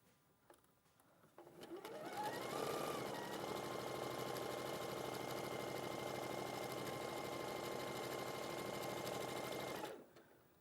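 A sewing machine runs steadily for about eight seconds while chain piecing quilt pieces with a quarter-inch seam, starting up, holding a constant whirring hum, then stopping abruptly.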